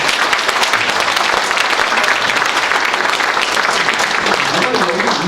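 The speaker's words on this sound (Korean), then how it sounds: "박수 한번 하세요." Steady, loud applause from a congregation at a Christian symposium gathering, dense clapping filling the whole stretch without a break.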